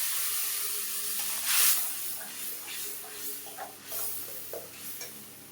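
Tomato paste with ginger, garlic and onion hisses in a pan for a stingray fish curry, a steady sizzle broken by a sharp scraping stir and several softer spoon knocks, close and moderately loud.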